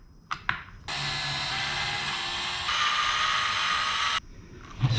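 A 2.5 millimeter driver whirs steadily for about three seconds, backing out screws from a Rustler 4x4 VXL chassis, with a few light clicks before and after the motor run.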